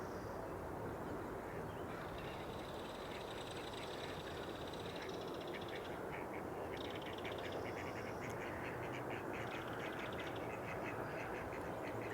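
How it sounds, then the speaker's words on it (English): Mallard ducks quack repeatedly at a spring marsh, a steady series of nasal calls at moderate distance over constant outdoor background noise, with no talking. "we got the mallards all."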